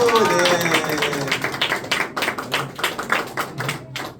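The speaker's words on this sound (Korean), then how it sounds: "군산지구 시체들을 향해서 환영의 박수." A church congregation breaks into welcoming applause, many hands clapping in a dense, irregular patter that grows more distinct toward the end, with a voice briefly heard at the start.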